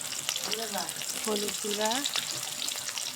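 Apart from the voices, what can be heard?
soybeans frying in oil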